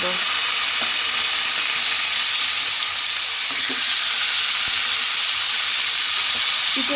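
Chicken pieces frying in hot oil for a Bengali-style chicken kosa, a steady loud sizzle that carries on throughout with a few faint clinks of stirring.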